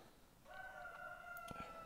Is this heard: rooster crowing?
yes